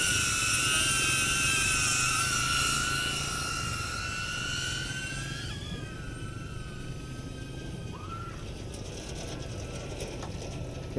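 A DJI Avata drone in flight gives a loud, steady propeller whine with shifting pitch as it moves, close at first and then fading slightly, with no talking.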